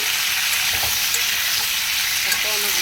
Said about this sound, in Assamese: কাটি থোৱা অমিতাখিনি দি দিছোঁ।